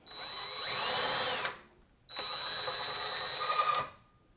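Small motors driving a threaded rod through glued nuts on a frame build strain in two whirring runs of about one and a half seconds each, split by a short pause, close and loud, with no speech.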